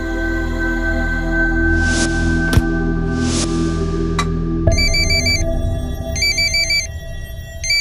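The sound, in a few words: telephone ringing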